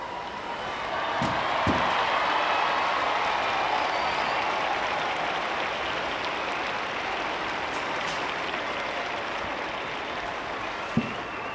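A large crowd cheers and applauds as Pope Benedict appears at his study window in the Apostolic Palace at noon, a distant, sustained roar of many voices and hands that rises quickly and holds.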